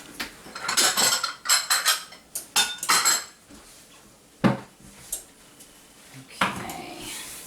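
Ceramic bowl and dishes clatter and clink in a kitchen during preparation of a Greek feast, a series of sharp, close knocks and rattles in bursts, then a few isolated clanks, with no talking.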